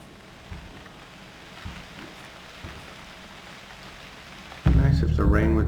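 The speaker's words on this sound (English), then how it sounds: "Nice if the rain would stop" Steady rain falling in the survival game UnReal World, a soft continuous patter with faint low rumbles, becoming much louder and closer near the end as a voice speaks over it.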